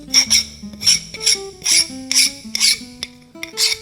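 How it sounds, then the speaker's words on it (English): A hand file rasps a burr off a model vertical steam engine connecting rod, a series of roughly seven close, scratchy strokes in an uneven rhythm, with faint metallic ringing between them. "it's easy to get rid of it. The burr, I mean. With a good file"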